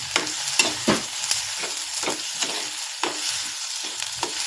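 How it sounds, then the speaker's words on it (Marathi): A vegetable dish sizzles steadily in a pan while a utensil stirs it, with irregular scraping clicks and taps over the continuous frying hiss. "आता आपण हे परत मिक्स करून घेऊ"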